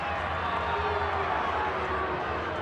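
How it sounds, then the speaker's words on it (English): A stadium crowd at a Brisbane versus Cronulla rugby league match roars in a dense, sustained wash of noise that stays steady throughout. "again the crowd roar"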